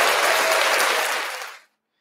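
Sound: applause for birthday listeners

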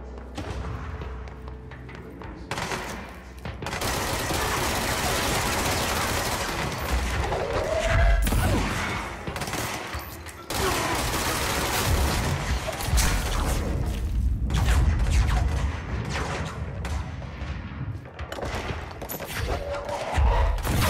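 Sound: gunfire in the video game Control

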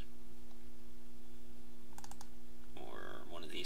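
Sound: computer mouse clicking

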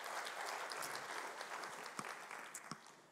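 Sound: audience applause as Emmy comes on stage

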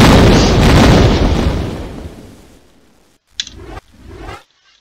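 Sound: explosions in a video game

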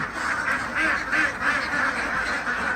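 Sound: ducks quacking

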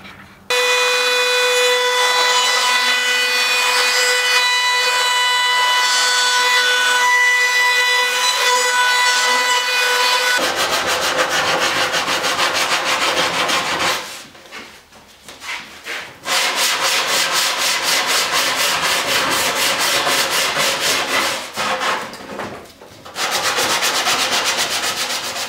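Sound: laminate trimmer with roundover bit routing wood edge

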